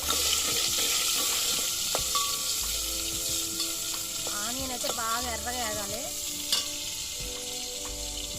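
Onion fries in a pan during camp cooking outdoors in a forest, with a steady, close sizzle and occasional stirring clinks, while a voice rises briefly in the middle.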